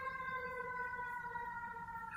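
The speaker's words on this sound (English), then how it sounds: "Let the ambulance pass by." An ambulance siren passing by outside, a steady wailing tone with strong layered harmonics holding loud and even throughout, with no talking.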